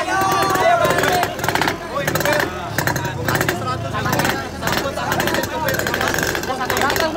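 Yamaha RX King two-stroke motorcycle engines revving hard during a blayer contest warm-up at a KRC Sintang anniversary event, loud, raspy and sustained, with a crowd talking beneath.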